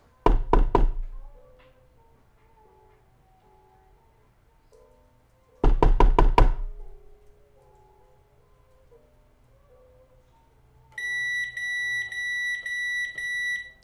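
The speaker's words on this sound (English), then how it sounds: "What does a normal knock sound like?" Two sharp clusters of rapid knocks strike a surface near an iPhone several seconds apart, each ringing out briefly, followed by a steady high electronic beeping pattern near the end.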